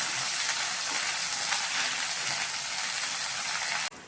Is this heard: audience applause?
no